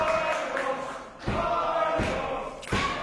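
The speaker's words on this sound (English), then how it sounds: "Crowd trying to give Kid Lykos that second wind he needs, or at least to maintain it" Crowd at a Kid Lykos vs Hayata junior heavyweight pro wrestling match cheering, a steady roar of voices broken by several heavy thuds from the ring.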